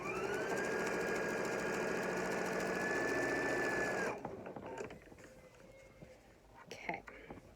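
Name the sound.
sewing machine stitching a fabric face mask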